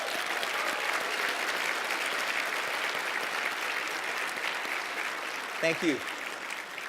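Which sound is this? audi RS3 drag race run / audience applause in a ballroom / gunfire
audience applause in a ballroom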